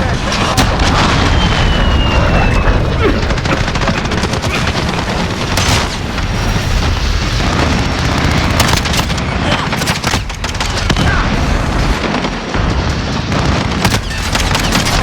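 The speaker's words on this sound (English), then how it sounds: "Enemy cruise missile." Modern Warfare battle noise roars continuously and loudly, with dense booming explosions and rapid gunfire from an enemy cruise missile strike, while someone talks underneath.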